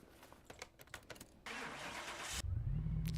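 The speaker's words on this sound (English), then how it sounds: "Let's just rev the car while I'm talking." A car engine in Car Mechanic Simulator 21 cranks with a starter whine, catches and settles into a loud, close rumble that rises as it revs, preceded by quiet clicks and shuffling.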